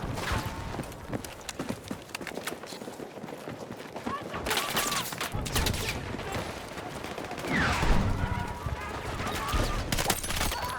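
Rapid bursts of automatic gunfire from a Battlefield 6 firefight, loud and close, firing in repeated volleys over a busy, noisy battlefield background with voices mixed in.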